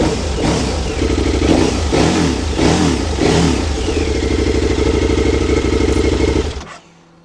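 A motorcycle engine fires up and revs loudly several times in quick bursts, then settles into a steady rumbling idle close by before cutting off abruptly at the end.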